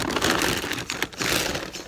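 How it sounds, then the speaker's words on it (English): Close crinkly rustling of plastic bags, rapid and uneven, with brief dips before the crackling resumes. "that's the noise of my bags."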